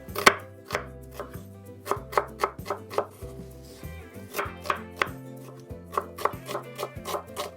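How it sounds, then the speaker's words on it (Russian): A knife chops two small onions finely for a meat filling, making a brisk, even series of close, crisp taps against a cutting board. "2 небольшие луковицы порежу довольно мелко"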